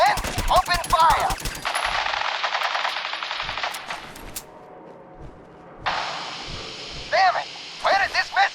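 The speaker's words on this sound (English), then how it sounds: "Men, open fire." Fallout 4 firefight: rapid automatic gunfire bursts crackle loudly for a couple of seconds, then a long sustained roar of shooting, a brief lull, and more bursts of shots near the end.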